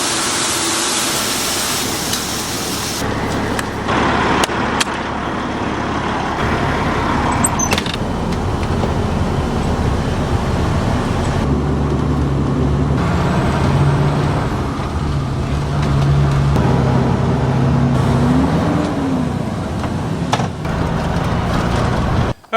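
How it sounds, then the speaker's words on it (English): A big diesel truck engine idles loudly and steadily nearby, with a rumbling drone, occasional clanks and a brief air hiss, no voices. "the black truck started"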